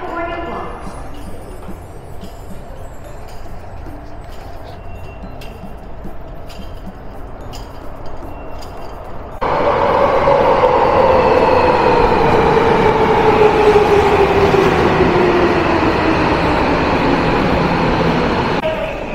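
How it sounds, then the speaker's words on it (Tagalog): A train on the Hibiya Line in Tokyo arrives at a station, entering as a loud rising rumble with a falling squeal of wheels and brakes over steady platform noise. "Ayun na yung train."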